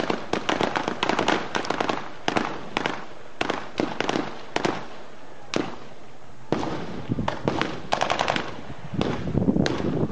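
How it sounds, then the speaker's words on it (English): Rapid bursts of automatic gunfire, including AK-47 fire, crackle through a street gun battle in Los Cabos, sharp volleys and single cracks repeating across ten seconds with brief pauses between clusters, loud and echoing. "Good old-fashioned gun battle."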